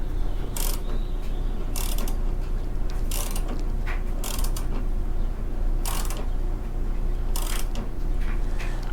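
A self-propel cable on a Toro Recycler mower is tightened with short bursts of close ratcheting clicks, repeated at irregular intervals over a low steady background hum.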